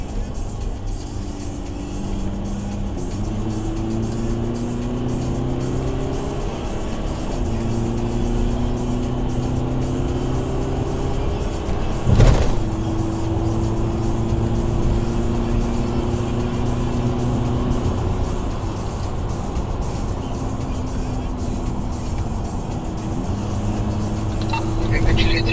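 A car drives in pursuit of a stolen bike, its engine droning steadily with gear-shift tones rising and falling and a brief louder swell near the middle, under constant road and wind noise.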